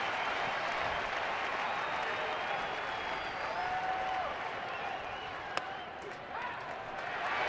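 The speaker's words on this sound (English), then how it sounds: "Crowd here at Chase encouraging Wade Miley." Baseball crowd at Chase Field in Arizona cheering and clapping to encourage pitcher Wade Miley, a broad sustained roar of applause under a commentator's voice, with a sharp single crack near the end.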